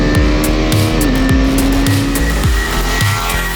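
Single-cylinder KTM 390 Adventure motorcycle ridden hard on a mountain pass, engine loud and close with a steady drone, rising and falling revs across repeated gear shifts, no talk.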